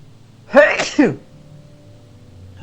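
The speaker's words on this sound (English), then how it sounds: "I gotta sneeze, hold on." A single close, sharp sneeze bursts out in two quick parts, then fades into quiet room tone.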